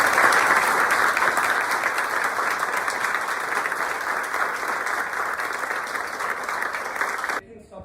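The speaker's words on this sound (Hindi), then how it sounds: "जोरदार तालियों से इन लोगों का फिर से" Loud, sustained applause from an audience honoring a candle seller's son who reached IIT BHU, dense clapping for about seven seconds with a voice faintly under it, then cutting off abruptly.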